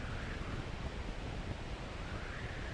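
Wind blowing in the Glider Sim flight game during a landing approach, a steady, full rushing roar with no breaks for the whole stretch.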